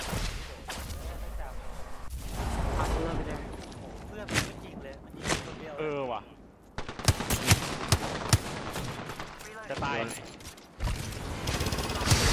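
Rapid automatic gunfire bursts from Apex Legends weapons crackle loudly through the firefight, mixed with mechanical clicks and reload sounds, while a voice talks excitedly over much of the action.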